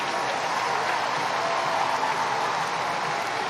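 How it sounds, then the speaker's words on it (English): Steady applause from a local crowd after a try at a women's rugby match between England and Samoa, a dense, even wash of clapping that holds loud throughout. "Warmly applauded by a very knowledgeable local crowd"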